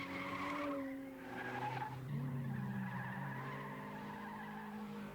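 Rally car sliding on a stage, its tires squealing in long wavering skids over a droning engine, close and fairly loud, with no talk.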